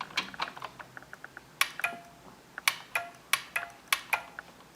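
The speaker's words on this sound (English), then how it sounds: "Clicky are tactical switches, except they make a crap load of noise." Clicky-switch mechanical keyboard typing, with a run of sharp, close keystrokes in an uneven rhythm, the later clacks louder and more spaced out.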